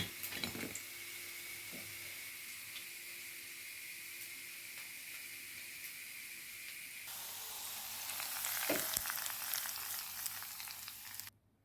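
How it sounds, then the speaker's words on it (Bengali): Onions fry in hot oil for a khichuri tempering, giving a steady close hiss and sizzle that swells louder partway through, with a couple of sharp clicks and spatters. "আর এদিকে আমি খিচুড়ির দাগনি দেওয়ার জন্য পেঁয়াজ ভেজে নিলাম।"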